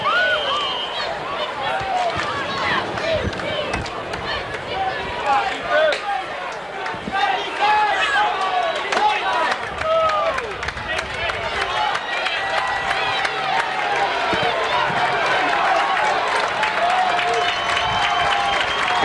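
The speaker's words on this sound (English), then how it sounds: "Crowd getting into the game now." A crowd at a 1990 high school football game between Evanston Township and New Trier, a dense continuous roar of cheering and chatter with scattered whistles and calls, steady and fairly loud throughout.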